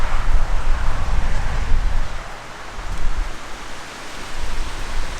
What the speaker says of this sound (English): you guys can see just how windy it is